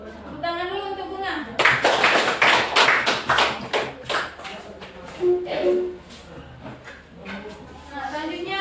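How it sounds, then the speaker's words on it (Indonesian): A primary-school class bursts into applause for a classmate, a few seconds of brisk rhythmic clapping that tapers into scattered claps, with a teacher's voice speaking before and between. "Tepuk tangan dulu untuk Bunga."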